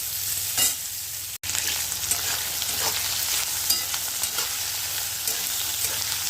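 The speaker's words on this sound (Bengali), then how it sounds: "আর মাছগুলো একটু ভেজে নিচ্ছি," Fish fries in hot oil, giving a continuous close sizzle with occasional louder pops and stirring scrapes. One brief dropout breaks it partway through, and nobody speaks.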